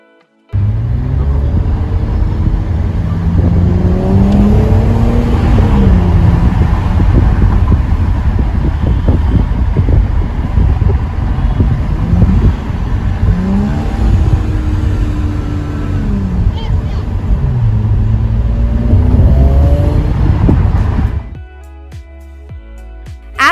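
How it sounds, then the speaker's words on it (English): A 2021 Audi S5 Sportback V6 in sport mode with exhaust valves open gives a loud, deep exhaust rumble with rising and falling revs throughout, then cuts off abruptly near the end. "what's even more noticeable is the exhaust note on startup, especially in the sport mode when the valves are open"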